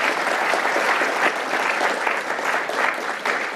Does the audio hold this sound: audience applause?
yes